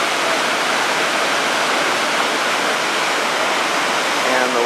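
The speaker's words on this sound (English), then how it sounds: "Humongous amount of water coming down here." A huge volume of water crashes down a mountain face near a glacier, a loud, steady roar of broadband rushing noise that stays constant throughout.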